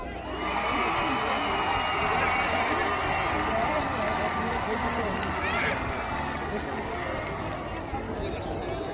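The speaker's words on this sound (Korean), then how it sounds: "함성과 박수 부탁드리겠습니다." A large outdoor concert crowd in Suncheon roars and claps for the singer, a thick, continuous din of cheering voices and hands that holds at a steady level for the whole stretch.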